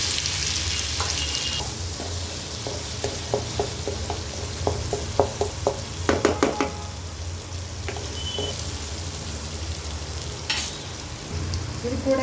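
Green chili, coriander leaf and ginger paste sautés with cumin in a pan, giving a continuous soft sizzle and a run of quick clicking stirs in the middle.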